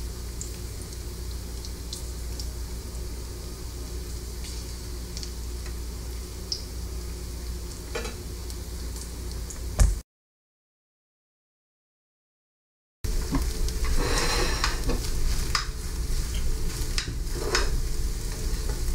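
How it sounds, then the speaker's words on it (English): Great Value hickory smoked bacon fries in a pan with a steady, even sizzle and crackle, interrupted by a brief gap of silence before resuming slightly louder. "This Great Value bacon's cooking up beautifully. It's still flat, it's not curling, smells great."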